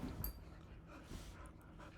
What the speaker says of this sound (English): Sorry, there's a puppy in my face.